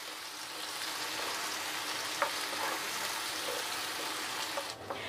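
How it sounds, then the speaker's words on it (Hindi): Onions frying in hot oil with whole spices, a steady close sizzle and crackle running throughout with a few brief sharper pops and stirring scrapes. "गर्म मसालों के बाद प्याज को हम लाइट पिंकिश होने तक फ्राई करेंगे।"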